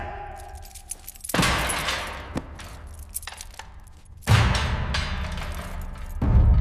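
Keys jangle in a tense police confrontation in a village, a few sharp metallic rattles and thumps in bursts amid louder scuffling impacts, with no speech.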